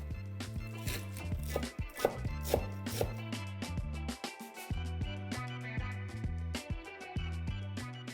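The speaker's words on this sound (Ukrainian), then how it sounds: "Тепер ми міленько нашинкуємо зелень." A knife finely chops dill and parsley on a cutting board, quick rhythmic taps in steady bursts with brief pauses, close and clear, with no one speaking.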